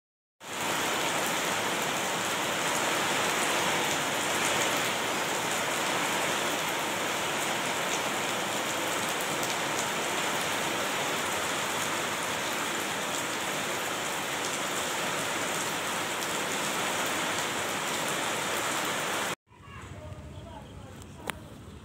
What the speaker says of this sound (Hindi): आज थोड़ी थोड़ी आ रही सब बारिश, मस्त मौसम है